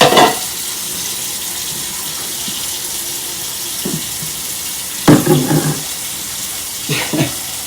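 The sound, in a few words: filling a container with tap water to soak it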